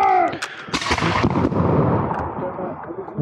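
A musket volley fires at a Revolutionary War reenactment in Camden. A loud, ragged burst of several near-simultaneous shots is followed by a few straggling reports and a rolling echo, and voices are heard around the firing.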